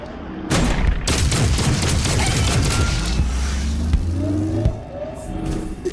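Video game gunfire: rapid bursts crackle over a dense, rumbling backdrop of engines and explosions, loud and continuous for several seconds before easing near the end.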